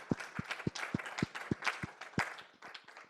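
An audience at a presentation applauds the presenter, a handful of distinct close claps ringing out over a softer spread of clapping that thins toward the end.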